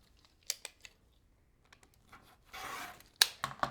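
A rotary cutter slices quilt fabric pieces apart along a ruler, soft scattered clicks of handling followed by a short, close swish of the blade through the cloth.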